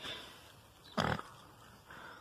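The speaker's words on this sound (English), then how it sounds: "Look at this pig." A pig on a farm lets out a single loud, short grunting burst at close range, standing out from quiet background noise.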